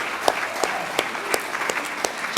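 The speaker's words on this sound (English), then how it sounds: "I think we should give Evelyn and her team a really good clap for all of the work that they've done." Conference audience clapping after an event wrap-up, a steady wash of many hands with a few sharper close claps standing out, moderately loud throughout.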